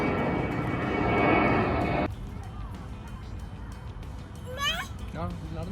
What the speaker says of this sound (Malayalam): രണ്ട് ബേബി പ്ലെയിൻ വരുന്നു.